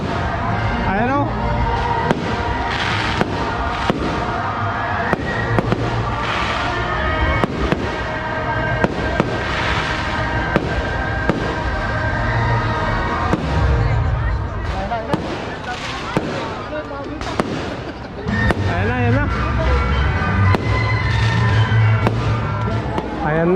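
Fireworks display at the San Nicolas, Pangasinan Christmas lights opening: loud, rapid cracks and booms burst continuously, with crowd voices and talk mixed underneath.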